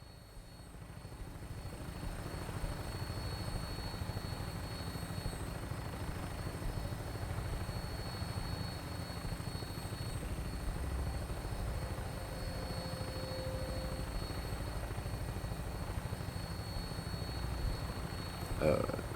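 Aircraft on final approach toward an airport in Fallout 4, a steady droning rotor-and-engine rumble that holds at an even level throughout, with no talking.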